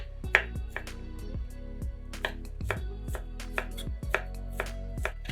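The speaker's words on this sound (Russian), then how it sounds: "200 грамм ветчины нарезаем небольшими кубиками." A knife dices ham into small cubes on a cutting board in quick, irregular taps, close and crisp, with no talking.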